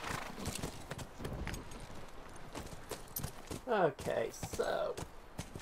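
Horse hooves clip-clop on a path in the video game The Last of Us, steady trotting steps with a sharp neigh near the end, while someone talks briefly.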